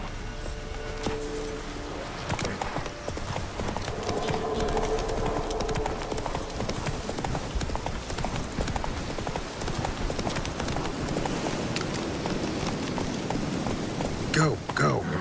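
A horse gallops in the video game Witcher 3, rapid rhythmic clip-clop hoofbeats that run steadily for most of the stretch, with a player's voice calling out over the game sound.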